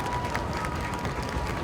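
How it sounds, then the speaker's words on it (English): Crowd noise at a high school football game between Durfee and Taunton, a steady murmur of spectators with scattered clapping and cheering throughout. "it's great to hear a crowd"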